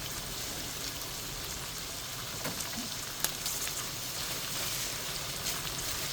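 Steady rain falling outside during winter, a dense even hiss with a few sharper drops pattering now and then, continuous and moderately loud.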